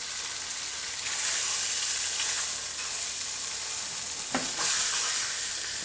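A slice of bologna fries in a pan with a steady, loud broadband sizzle that swells after the first second and again near the end, with a few brief crackles and no voices.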